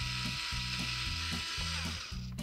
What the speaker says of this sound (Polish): Mamy tutaj wkręta do metalu. On jest zakończony takim małym wiertełkiem na końcu i spróbujemy się wkręcić w 2-milimetrową blachę.